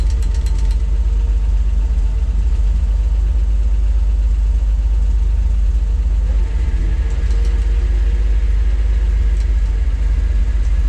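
A 1956 Dodge C3-R8 two-ton flatbed truck engine idles with a loud, steady low rumble throughout, close up, with a slight shift in tone partway through.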